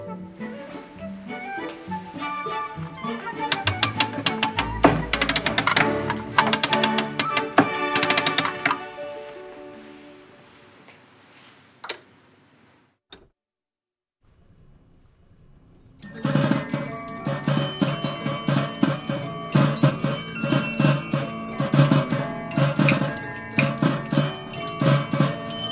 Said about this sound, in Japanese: では実際にオルゴールを回してみましょう。